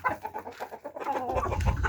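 Hens clucking close by in a henhouse, a quick series of short throaty clucks followed by a louder, busier burst of fowl calls.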